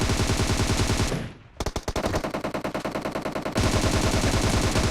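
Rapid automatic gunfire from a PUBG match with the Kar98k and M762, heard as loud, close bursts of shots. A brief lull breaks the firing, then a run of evenly spaced rounds gives way to another dense, continuous burst, with no talk.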